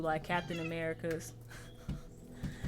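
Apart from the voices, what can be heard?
cat meowing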